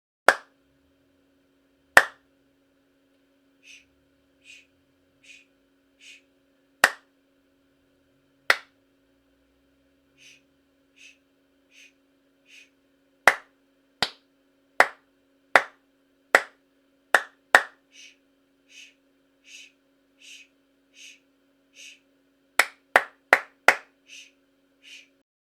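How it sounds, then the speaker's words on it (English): Hands clapping a simple rhythm in a beginner music lesson, sharp isolated claps in spaced groups and quicker runs, with faint soft taps between them in an otherwise quiet room. "Now I'm going to clap the rhythm,"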